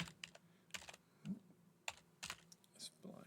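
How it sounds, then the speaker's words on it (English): A command is typed on a computer keyboard as a quick series of close, sharp key clicks with short pauses between them. "I'm going to type this one in."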